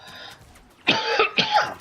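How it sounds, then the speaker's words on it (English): A man coughs twice in quick succession, close and fairly loud, two short harsh bursts after a moment of quieter breathing. "I got a real bad cough"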